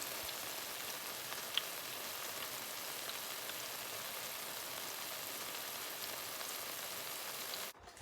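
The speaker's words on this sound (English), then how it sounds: "How good is the sound of sizzling garlic?" Garlic sizzling in a hot pan gives off a continuous soft, crackling hiss with fine spattering, faint and steady throughout and heard alone.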